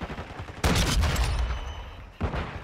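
Dual-wielded Desert Eagle pistols firing in a video game: a heavy, loud volley of shots that then decays, followed by another sharp burst near the end.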